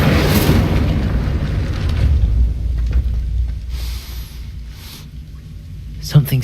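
An Incendio fire spell cast in Hogwarts Legacy gives off a heavy, roaring rumble that fills the whole clip and eases slightly midway, then ends with a sudden sharp burst of flame.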